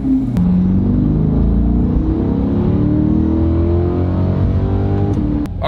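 A 2020 Chevrolet Corvette C8 is driven, its engine a steady loud rumble heard from inside, with gear-like pitch shifts rising and falling as it cruises.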